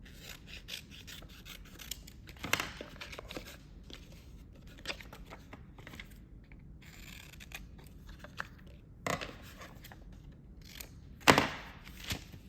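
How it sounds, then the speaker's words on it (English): Scissors trim a holiday craft project with faint, close snipping and rubbing sounds spread across a quiet stretch, plus a few sharper cuts standing out. "Oh, I'm gonna trim more off the bottom."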